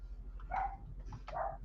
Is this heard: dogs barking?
yes